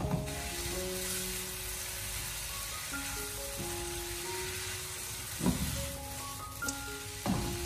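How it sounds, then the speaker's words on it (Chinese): Potato cubes and minced pork stir-fry over high heat in a wok, giving a steady broadband sizzle with a few louder scrapes or tosses near the end, all under light background music. "然后开大火将它快速的翻炒一下，把它翻炒均匀"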